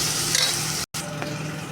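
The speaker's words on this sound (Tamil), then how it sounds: "தக்காளி வெங்காயம் நல்லா வதங்கிடுச்சு" Tomato and onion sauté in a hot pan, a steady close sizzle with stirring scrapes, briefly cut to silence for an instant before the frying resumes.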